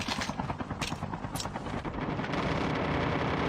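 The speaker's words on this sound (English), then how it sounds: "Enemy helicopter." Enemy helicopter in the Call of Duty Mobile battle royale game: a steady, loud rotor thumping and rumble that grows slightly toward the end, with sharp gunfire-like bursts early on and no talk.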